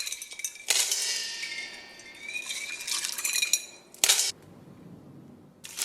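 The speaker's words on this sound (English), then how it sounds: "I'm going to go ahead and transfer it into my pot" Washed Bambara beans tip out with a clatter into an Instant Pot's metal inner pot: a sharp clang opens a long rattling pour, followed by a second brief clank and quieter handling. No one speaks.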